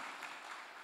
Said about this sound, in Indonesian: beri tepuk tangan yang terbaik buat Tuhan Yesus